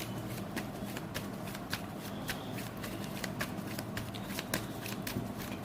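Tarot cards are shuffled in a continuous quick flurry of soft riffling and flicking clicks, close and fairly quiet, with no talking over it.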